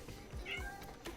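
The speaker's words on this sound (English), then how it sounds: "So my cat is meowing, man." A pet cat gives a short meow, brief and fairly close, over a faint background.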